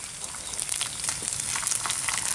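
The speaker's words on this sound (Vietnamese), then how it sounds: "Bây giờ mình chiên tiếp với mấy con khô luôn." Dried sun-cured gourami fish sizzle and crackle steadily in hot oil in a pan, a close, continuous frying hiss with small popping spikes and no talk.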